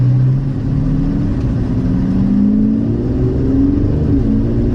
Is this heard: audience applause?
no